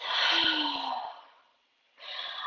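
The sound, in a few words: deep breath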